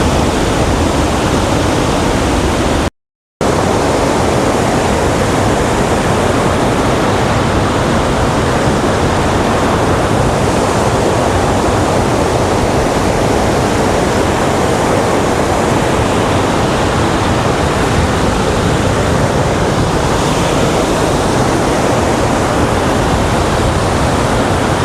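A village waterfall at Pawai pours in a steady, loud roar of rushing water that fills the whole scene without pause, with no voices present.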